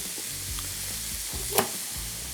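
Yellow onion and poblano peppers sizzle on a Blackstone griddle, a steady loud frying hiss with low scraping stir sounds and one sharp pop, close up and without talking.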